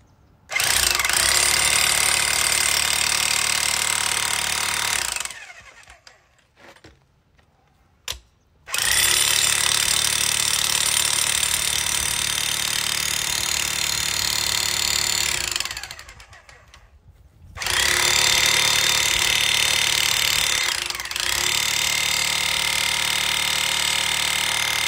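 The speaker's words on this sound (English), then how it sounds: "Electric hammer drill, and I'm gonna break this up with the rest of the way." An electric hammer drill pounds the concrete around a basketball post in two long, loud bursts. A brief quiet gap and a lull separate them, and no one speaks.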